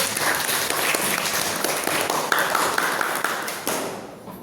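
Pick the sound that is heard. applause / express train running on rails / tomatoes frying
applause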